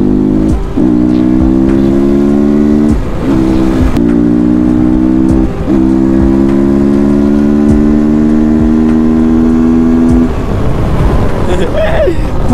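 A dirt bike engine drones loudly at steady revs on an off-road jungle ride from Kathmandu to Godawari, with a couple of brief throttle dips before the engine note breaks up near the end.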